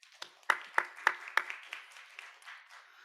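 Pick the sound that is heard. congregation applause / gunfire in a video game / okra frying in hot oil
congregation applause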